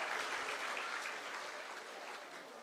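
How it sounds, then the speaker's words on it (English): A full hall audience at a foundation day celebration applauds a prize winner, a steady wash of many hands clapping at moderate distance, slowly tapering slightly toward the end. "Clapping should go on."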